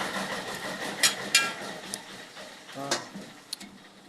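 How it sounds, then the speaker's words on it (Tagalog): An old water-cooled loader engine runs at a low, steady idle, fairly quiet, with sharp ticks and clanks on top and faint voices nearby. "At yung isa pong aming loader, oh, ang ganda ng makina namin"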